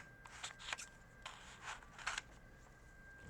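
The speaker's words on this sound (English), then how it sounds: "Now I'm going to cut right along that line right there." Scissors snip along a drawn line to cut out a paper character head for a MineDraft figure, several quiet close crisp cuts in short bursts with pauses between.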